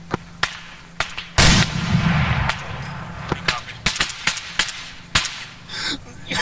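Sharp gunshots in a military video game firefight, a string of loud cracks spread across the stretch, with one heavier blast and rumble near the start, under radio-style squad talk.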